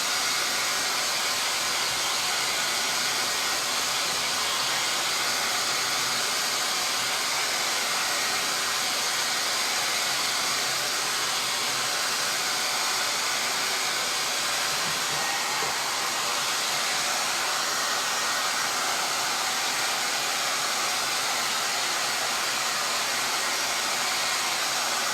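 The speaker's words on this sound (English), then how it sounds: "I'm gonna pause for a second and use my blow dryer to just speed up the drying process." A handheld blow dryer runs steadily and loudly for about 25 seconds as a constant broadband whoosh, close to the mic, with no talking over it.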